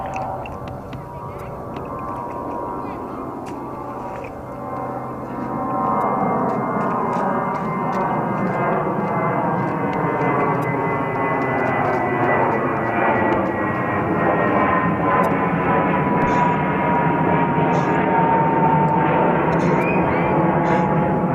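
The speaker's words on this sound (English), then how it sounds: "That would be JetBlue Airways, Flight 463, departing JFK in route to Sarasota, Florida." A JetBlue Airways jet airliner departing JFK gives a steady, loud engine roar that swells after a few seconds and holds with a rising whine.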